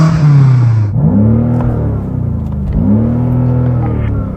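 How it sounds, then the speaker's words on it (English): A BMW M8 engine revving hard and close, with two rising-and-falling rev sweeps that bounce off a soft limiter around 5,000 RPM, set against a steady idle. "Go on, rev up yours, Jan."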